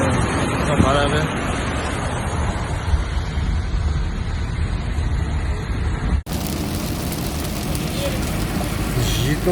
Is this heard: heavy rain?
yes